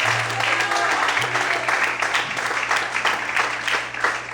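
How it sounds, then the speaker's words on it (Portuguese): A church congregation claps and applauds steadily throughout, a dense wash of hands that stays loud and even, with a low sustained tone underneath. "dá uma glória a Deus e aplauda, e exalte ao Senhor essa noite"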